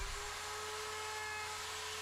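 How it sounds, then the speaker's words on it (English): A wood router cuts along the edge of a reclaimed-wood table with nail holes, giving a steady, loud high-pitched whine with a constant hum underneath, heard alone for a couple of seconds. "We'll go ahead and finish up the routing here."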